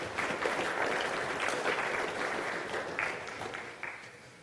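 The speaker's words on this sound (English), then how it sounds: "a big round of applause for both Alex and Zane" Audience applause for two speakers at a Toorcon 2007 security conference talk, a dense wash of clapping that holds steady and then slowly tapers off toward the end.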